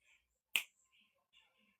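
A single sharp finger snap, close and crisp, cuts through near-silence, with faint murmurs of a voice before and after.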